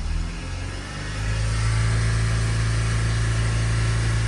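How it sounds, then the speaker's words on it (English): Diesel engine of a BMW Mini D is revved from idle, rising to a steady, loud, sustained drone with a deep rumble, heard close up with no talking. "I'll rev it up again."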